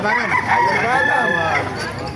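A Nelson Black gamefowl rooster at a market in Calumpit gives one loud, close cock-a-doodle-doo crow lasting about two seconds.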